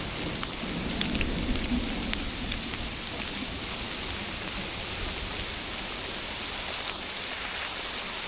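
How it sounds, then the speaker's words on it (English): Rain falls steadily through a forest in a giant thunderstorm, an even, close, enveloping hiss of drops with no voices. "The sound of the rain."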